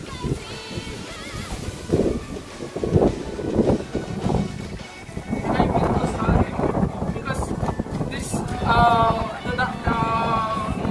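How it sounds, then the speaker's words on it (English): Strong gusty wind buffets the microphone in broad rushing bursts, with a voice talking over it and faint higher tones near the end. "do you hear the sound of the wind? It's really windy here"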